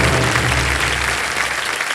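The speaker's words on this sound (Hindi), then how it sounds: "और तालियां बजते रहें इनके लिए" A studio audience at a television quiz show applauds contestants, a loud, dense, continuous roar of clapping that fades slightly at the end.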